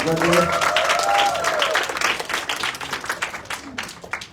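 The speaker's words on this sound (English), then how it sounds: "Ladies, I think the judges deserve another warm round of applause." Pageant audience applauding the judges at a beauty contest, a full, lively round of clapping that starts under a voice and then continues alone, thinning out toward the end.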